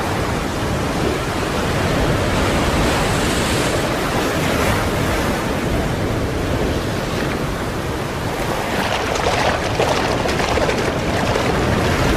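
Ocean waves and surf roll continuously in a broad, steady wash where penguins dive, loud and close with wind rumbling through, building toward a brighter breaking crash near the end.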